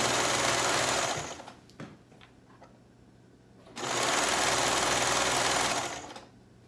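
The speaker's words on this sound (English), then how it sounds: "Okay, so now we're going to sew this down" A sewing machine sews down a gathered ruffle on fabric in two steady, loud runs of rapid whirring stitches separated by a short quiet gap, close up.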